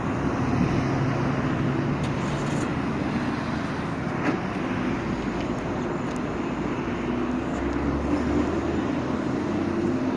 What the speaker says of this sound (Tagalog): Tingnan mo ang haba ng traffic